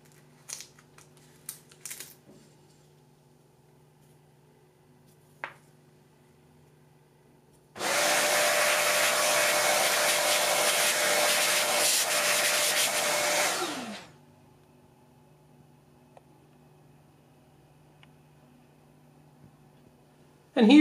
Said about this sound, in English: Might vacuum this before I get sawdust everywhere.